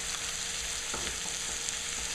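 Green onions, green tops included, fry in a hot pan with a steady bright sizzle throughout, with a few faint utensil scrapes near the middle and no voices.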